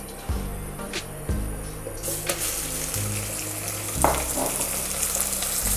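About 400 grams of minced meat sizzling in smoking-hot oil in a pan for a chilli bean stew, a loud crackling fry with a few clanks of the pan and utensil.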